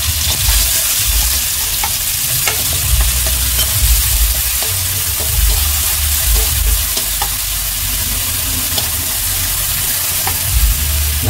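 Garlic, shallots and chili hit hot oil in a pan, giving a loud, steady sizzle close by with scattered pops and stirring scrapes throughout, no voices.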